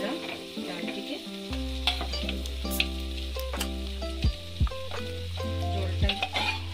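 Spice masala frying and being stirred in a pan for a Bengali-style mixed dal tadka, with a steady sizzle and several scraping stirs and clinks near the end.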